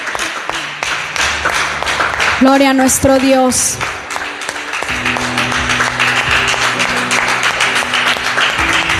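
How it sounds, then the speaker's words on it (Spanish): A church congregation applauds in worship, continuous clapping running beneath a voice, with a sung or chanted phrase rising over the claps midway. "Un fuerte aplauso al Señor."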